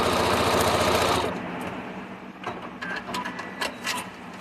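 A sewing machine stitches down a quilt block in a fast, steady whir for about a second, then stops and leaves quieter handling and rustling noises.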